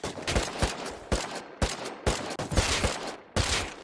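Gunfire in the survival video game Rust: several loud, sharp shots and short bursts in quick succession, close and punchy, with brief gaps between volleys and no talking.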